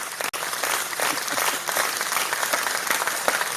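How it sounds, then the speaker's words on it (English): A crowd on a live audio space claps continuously, a dense, steady patter of many hands held at an even level for several seconds. "Are we not clapping?"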